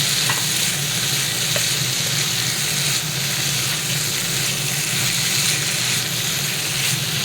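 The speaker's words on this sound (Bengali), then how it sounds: "এরপর আমি এখানে সয়াবিন আর আলুটা ভেজে রেখেছিলাম সেটা এর মধ্যে দিয়ে দেবো, দিয়ে সবগুলোকে একসঙ্গে খুব ভালো করে কষিয়ে নেব।" Soybean chunks and potatoes frying together in a pan while being stirred, a loud, dense, unbroken sizzle close up with steady scraping underneath and no voices.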